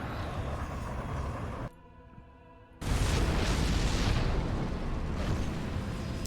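Loud booming blasts from nukes detonating in the real-time strategy game StarCraft 2, a dense sustained roar of explosions after a brief lull, with no speech over it.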